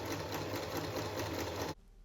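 A sewing machine runs at a fast, steady whir, stitching along the edge of folded white canvas loops, then stops abruptly near the end.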